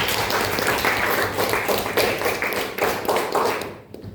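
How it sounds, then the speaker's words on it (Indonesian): A classroom of students claps for a classmate, with a dense, continuous patter of hand claps that holds steady for about four seconds before tapering off abruptly, fairly close. "Oke, tepuk tangan untuk teman."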